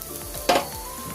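Hot water is poured into rice already fried in a pan for basanti pulao, bringing a sudden loud hiss and splash over an ongoing sizzle.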